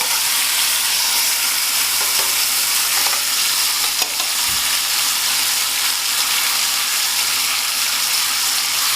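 A leg of lamb searing in a hot pan while it is turned, giving a loud, continuous sizzle that stays steady throughout, with a brief soft knock about midway as the roast shifts.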